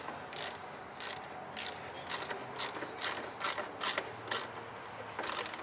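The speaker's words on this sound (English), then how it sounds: "Now taking the 7mm socket that we used at the start to undo the intake hose." A ratchet turning a 7mm socket tightens the intake hose clamp on a Ford XR6 Turbo cold air induction install, giving about ten quick, sharp clicking bursts in a steady rhythm, close up with no talking.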